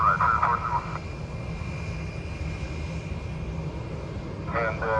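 Airliner on its takeoff roll at a busy airport, a steady broad engine roar filling the background while a voice speaks briefly at the start and end.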